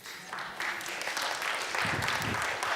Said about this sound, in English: Everybody, round of applause for V and Fortuna.